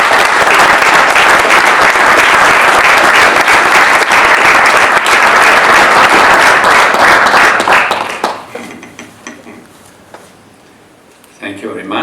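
A conference audience at a transatlantic event breaks into loud sustained applause welcoming a speaker, dense clapping for about eight seconds before tapering off, with a few faint sounds after it dies down.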